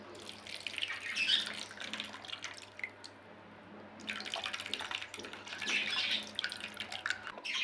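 Tamarind water being poured into a pot, a soft splashing trickle in two quiet bursts with a brief pause between.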